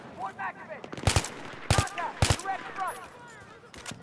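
Enemy troops fire at close range in the Battlefield 3 video game, with three loud, sharp gunshot cracks spaced about half a second apart, surrounded by quieter chirping game effects and scattered distant pops.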